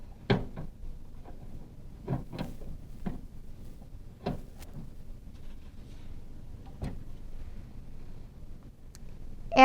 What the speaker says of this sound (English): So we will undo